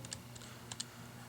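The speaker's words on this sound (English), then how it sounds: "So we type this in to the calculator," Numbers are typed into a calculator as a few quiet, light key clicks in a short cluster, faint over a low background hum.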